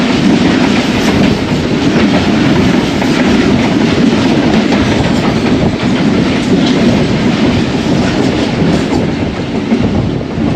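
The Rahman Baba Express, a Pakistani passenger train, rolls past at close range, its steady wheel rumble and rhythmic clickety-clack on the rails filling the whole stretch loudly and without pause.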